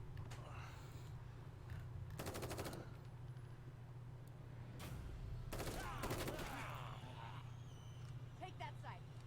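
Rapid bursts of gunfire from The Evil Within 2 crackle in short volleys over a low droning background, with occasional single shots between them.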